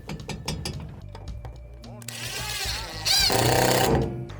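Screws driven into a pontoon boat floor to fix PVC pipe clamps, with a close whirring, ratcheting driver that runs in bursts with uneven pitch and a louder final stretch.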